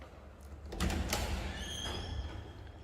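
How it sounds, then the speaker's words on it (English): Door pushed open in a game, a creaking slide and low rumble rising then sustaining with a faint squeaky scrape, moderately loud and close, no talking over it. "Bro, stop opening the door like that."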